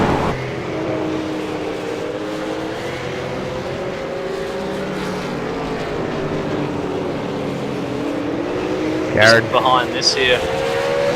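V8 Supercars race cars at Mid-Ohio, engines droning steadily through the clip with a louder burst near the end, under continuous commentary.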